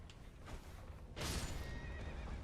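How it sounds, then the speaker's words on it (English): A horse in Elden Ring gives a loud, close whinny midway through, with faint hoof clops and game ambience around it. "Oh, poor horsey."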